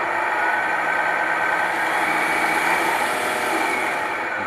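A Tamiya King Hauler 1/14 RC truck's sound module plays a steady, close engine drone as the throttle is worked, holding a fairly even loudness throughout with no talking.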